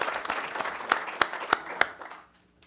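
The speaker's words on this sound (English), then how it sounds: "I think another round of applause is certainly in order." Applause at a wildlife commission committee meeting, a short burst of scattered individual claps from a modest room audience that tapers off and fades out within a few seconds.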